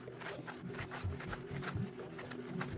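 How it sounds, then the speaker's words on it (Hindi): A wooden fire saw is rubbed back and forth against a base to raise an ember, giving a steady close rasping scrape in repeated strokes with no voices. "अब मैं फायर सॉ को इसके साथ रगड़ रहा हूं"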